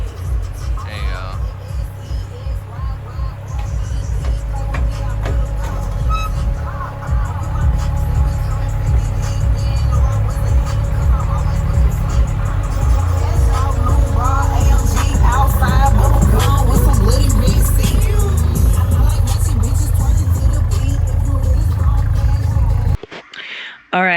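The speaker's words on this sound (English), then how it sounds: "It is a 1988 Toyota Tacoma extra cab pickup. It has a freshly built 22 RTP on 10 pounds of boost." A 1988 Toyota Tacoma extra cab pickup rock crawler with a freshly built turbocharged 22R engine on 10 pounds of boost rumbles loudly up close. Its engine note swells and holds, then cuts off abruptly near the end.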